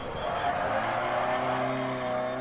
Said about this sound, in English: I don't remember the brakes making this much noise